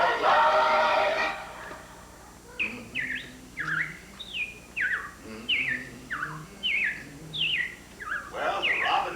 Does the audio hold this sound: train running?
no